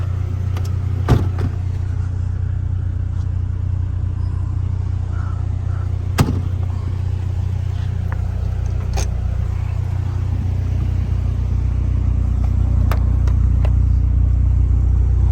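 A 2013 Honda Civic Si with a VTEC engine drives along, heard from inside as a steady low road and engine rumble with occasional small clicks and knocks, and no talking.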